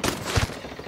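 A brief burst of gunfire in the video game Ghost Recon Wildlands, a loud, close volley of rapid shots lasting about a second amid a dense, reverberant combat mix.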